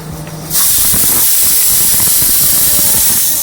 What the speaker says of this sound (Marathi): कुकरच्या दोन ते तीन शिट्ट्या आपण होऊन देऊयात